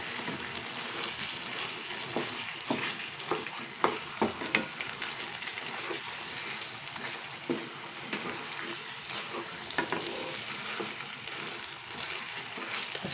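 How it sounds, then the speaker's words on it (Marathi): Rava laddu mixture of semolina is stirred and roasted in ghee in a pan, giving a soft continuous sizzle with irregular scraping and stirring clicks, close and fairly quiet with no talking. "असं चांगलं हलवून घ्यावं आणि तुपामध्ये चांगलं भाजून घ्यायचं."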